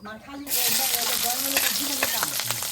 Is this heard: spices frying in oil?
yes